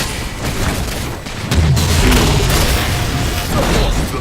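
An incendiary cannon fires in the Halo 4 video game, a loud booming blast with a sustained fiery rumble and crackle through the whole stretch, with no pause.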